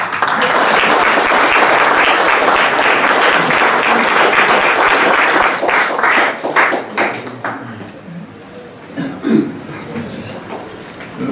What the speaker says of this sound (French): je vous applaudis une nouvelle fois